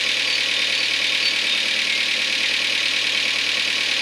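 A 1.2L Renault Clio 1 engine, run without oil or coolant to destruction, holds a steady, high-pitched roar, continuous and loud throughout without noticeable changes in pitch.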